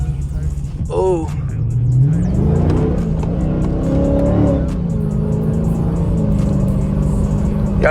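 A Dodge ScatPack's engine revs and whines in the rain, a rising and falling drone with steady road noise throughout, heard from inside the car while people talk over it.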